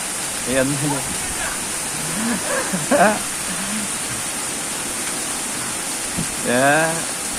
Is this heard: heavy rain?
yes